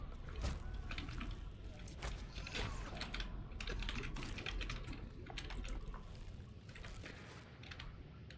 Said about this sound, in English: You can hear the furious keyboard typing.